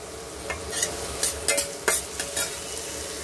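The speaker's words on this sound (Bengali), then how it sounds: "তারপরে মাছটা দিয়ে আমি নাড়বো" Fish for a fish bharta is stirred and fried in a pan, with a steady sizzle broken by several sharp spatula scrapes and clinks at an irregular rhythm, close and alone.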